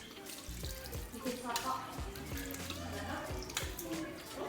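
Tap water runs over hands and forearms as they are rinsed up to the elbows during handwashing before a perineal suturing procedure, a soft continuous splashing with faint voices underneath.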